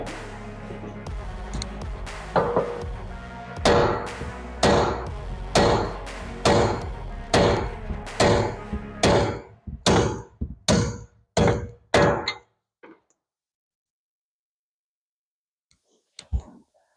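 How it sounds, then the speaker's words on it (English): A hand hammer taps a rusty strut bolt on a second-generation Kia Rondo, about a dozen sharp metallic knocks at a steady, slowing pace, close and loud, then a short silence and one last faint tap. "An air hammer works great for this, but I'll use a hammer"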